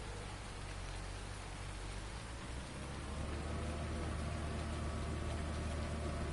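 Steady rain falls in the Farming Simulator video game on a farm, a constant dense hiss with a low rumbling undertone, evenly loud throughout with no voices.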